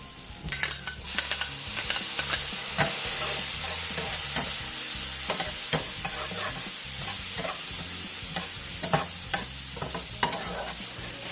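Garlic hits a hot pan over lowered heat and sizzles loudly and steadily, broken by frequent sharp scraping and clattering strokes of a utensil stirring it close by.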